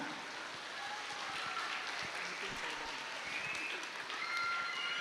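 Applause from the crowd at a school annual day event: a distant, quiet, steady wash of many hands clapping lasting a few seconds, heard faintly in a large space.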